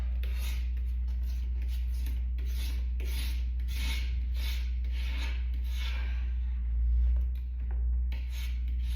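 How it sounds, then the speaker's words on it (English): A 1-inch razor blade scrapes tint film off a car side window in steady, close rasping strokes, each pass audible as a gritty rub over a constant low hum, slowing toward the end. "you're going to take your 1-inch blade and you're just going to go over the entire window"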